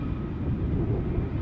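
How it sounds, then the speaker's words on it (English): Jet aircraft engines spool up at Dusseldorf airport, a steady low rumble with no break, heard from a distance and without voices. "I swear I can hear some planes starting up."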